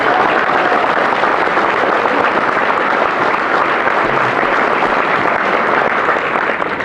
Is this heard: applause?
yes